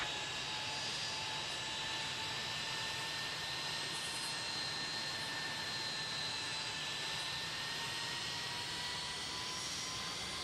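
An airliner taking off from runway 16 in the Tower Simulator 3 game at T.F. Green International Airport makes a steady, droning jet engine roar with whining tones, continuous and even throughout, with no voices.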